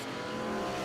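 Drag race cars, including a 1979 Oldsmobile Starfire, launching off the start line, a loud, sustained engine roar rising over less than a second.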